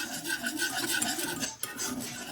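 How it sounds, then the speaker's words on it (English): A whisk stirs flour into melted butter for a light roux, giving a steady close scraping and rasping rub with a brief pause near the end and no talk. "Go in with our whisk. And we're going to stir that up."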